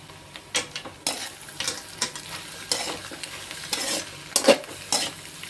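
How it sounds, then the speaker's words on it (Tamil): Chopped carrots go into a pan of frying egg and onion for egg pasta and get stirred, with close, repeated scraping and clattering strokes of a spoon over a light sizzle. "இப்போ வந்து கேரட்டை வெட்டி வச்சுருக்கோம், அதை போட்டுக்கிறோம்."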